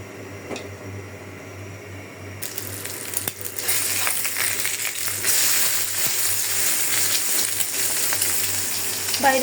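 An egg frying in a pan on a home stove, with a soft sizzle that starts after a quiet moment and continues steadily, together with light clinks and handling noises close by.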